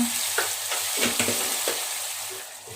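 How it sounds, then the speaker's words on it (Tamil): Mushrooms sizzling and being stirred in a hot pan with tomato and salt for mushroom biryani, a steady fry hiss punctuated by several spatula scrapes. "இந்த மஷ்ரூம் வதங்கிடுச்சு"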